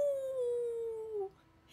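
A person's voice imitates a wolf howl in one long, steady, drawn-out tone that slides slowly down before breaking off, then fades to quiet.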